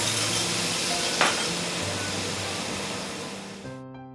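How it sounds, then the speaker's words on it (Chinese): Cooking wine splashes into a hot wok of shredded pork and cabbage with a brief hit, then a continuous loud sizzle that slowly fades, with faint music at the end. "淋入料酒"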